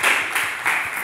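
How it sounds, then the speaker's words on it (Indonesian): A short burst of applause for the second group rises and falls in two quick waves of hand clapping. "Kasih tepuk tangan untuk kelompok 2."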